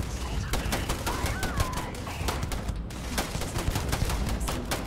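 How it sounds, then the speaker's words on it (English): Rapid bursts of shotgun gunfire in the Starfield video game, a dense run of sharp blasts over a constant roar of game background noise, loud and close. "They have a shotgun."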